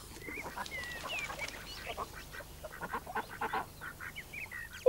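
Several Canada geese honk and call together nearby, a busy overlapping chorus of short nasal cries.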